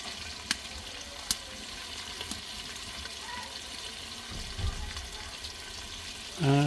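Ginger paste goes into a pan already frying onion paste for a home-style mutton curry, with a continuous low sizzle, a couple of sharp clicks early on and a louder clattering burst at the very end.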